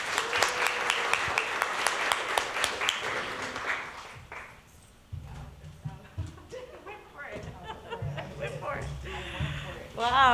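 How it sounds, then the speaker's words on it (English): An audience at a Two Spirit artist showcase applauds for Tashina. Fairly faint clapping fades after a few seconds, and talking and background noise follow. "Let's give an applause for Tashina."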